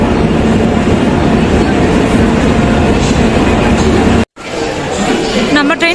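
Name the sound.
train arriving at platform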